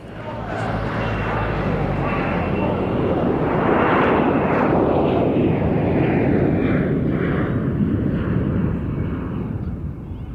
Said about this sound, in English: the Boeing 727 also first flew in 1963